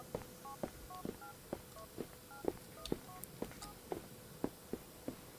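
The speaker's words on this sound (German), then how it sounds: "Wer tippt auf dem Handy rum, ha?" Phone keypad tones in the video game Grand Theft Auto IV: a steady series of short electronic beeps, roughly two per second, each a crisp tap-tone over a quiet background.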